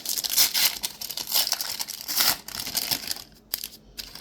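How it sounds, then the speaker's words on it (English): Plastic packaging of a Sonic the Hedgehog Magic: The Gathering Secret Lair card pack crinkles and tears open close by, in a few rustling bursts before a quiet moment near the end. "Let's open up the cards and see what we get."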